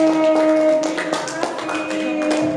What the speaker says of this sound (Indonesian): tepuk tangan untuk Aji, Fendi dan Gilang